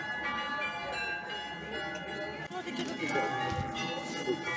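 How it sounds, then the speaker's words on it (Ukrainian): Sunday church bells ring over an outdoor Chernihiv flea market, a steady layered tolling held under crowd noise and voices throughout. "Неділя, недільні дзвони."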